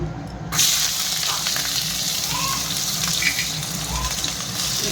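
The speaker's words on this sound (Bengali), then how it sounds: "কড়াইটা গরম হয়ে গিয়েছে, ওর মধ্যে তেল দিয়ে দিলাম। তেল দিয়ে এই পেঁয়াজগুলো দিয়ে দিচ্ছি।" Onions hit hot oil in a heated kadai-style wok and sizzle loudly, a bright, continuous frying hiss with faint crackles, starting abruptly after a short quiet moment and staying close and steady.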